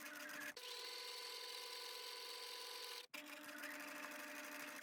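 A sewing machine stitches a flat felled seam, humming and whirring at a steady pace up close, with two brief stops where it pauses before running on again.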